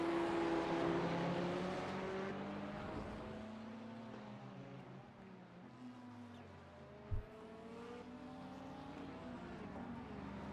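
A BMW race car on the Barcelona circuit in a simulated racing event, its engine note rising and falling through gear changes as it pulls away from a corner, heard at steady volume with a brief thump partway through.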